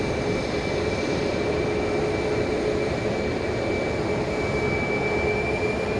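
A flight from Sacramento arrives at Dallas Love Field. Its airliner drone holds steady and fairly loud throughout, with a faint high whine above a broad roar and no talk.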